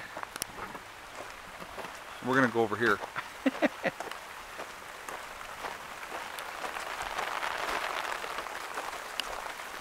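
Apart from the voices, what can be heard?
rain falling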